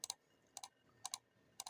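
Computer mouse clicks while drafting beam reinforcement details in CAD, four crisp paired double-clicks spaced about half a second apart, close and quiet with nothing else around them.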